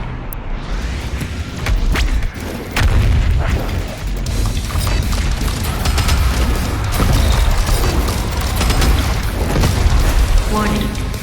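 Deep, heavy booms from the BFG 10,000 firing in DOOM Eternal swell and pound continuously in loud, rumbling waves, with a voice heard over the blasts.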